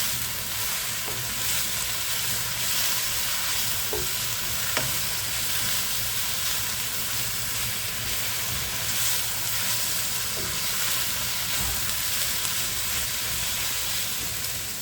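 Swiss chard greens wilt in a hot pan alongside mushrooms, giving a steady, dense sizzle that holds evenly throughout, with a few faint clicks of stirring and no talk.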